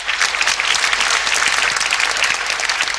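A seminar audience breaks into dense, sustained applause, many hands clapping together in a loud, even wash of sound that fills the room throughout, with no speech over it.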